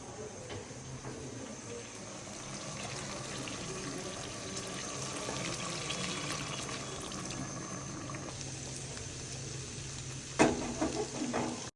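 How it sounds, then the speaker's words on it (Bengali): Broth pours steadily into a pan of pangas fish curry, a continuous watery rush lasting several seconds before a few sharper splashes and clatters near the end, with no voices. "এবং ঝোলটা দিয়ে দেব আমরা।"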